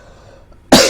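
A single abrupt, close cough bursts out loudly after a moment of near silence, cut off at the end.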